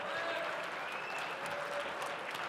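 A conference crowd at Autodesk University in Las Vegas applauding steadily, a dense wash of clapping that holds at an even level, moderately loud with faint voices underneath.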